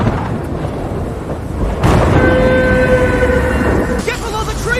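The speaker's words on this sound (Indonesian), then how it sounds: "Saat petir mulai menyambar" Thunder rumbles loudly through a stormy outdoor film scene, a sudden crack followed by a sustained heavy roar, with a high tonal whine layered on top.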